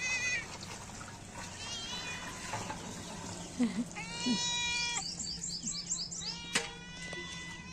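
A cat meows several short times on a rural family farm, waiting for fresh milk poured into a can, amid bird chirps and low outdoor background noise.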